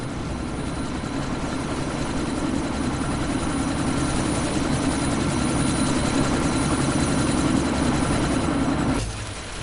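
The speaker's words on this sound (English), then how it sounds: "That chopper's about to take off!" A helicopter in the video game Deus Ex is getting ready to take off, its rotor and engine giving a steady, loud, throbbing drone close by. The noise holds level for about nine seconds, then cuts off abruptly near the end.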